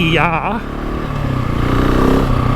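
A GasGas ES 700 motorcycle engine runs loud and steady close by, with a rising rev partway through, while someone talks over it.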